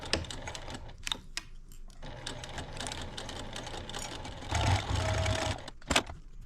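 A sewing machine stitches fabric for a toy car storage case in quiet, rapid clattering runs that stop and start, with a louder burst near the end.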